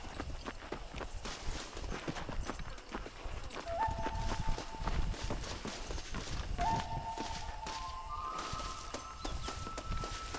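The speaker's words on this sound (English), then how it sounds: "My brother has given us his stagecoach. They are good horses." Stagecoach horses in Red Dead Redemption clip-clop steadily through the whole stretch, a close, continuous hoof rhythm with faint whistled tones drifting over it.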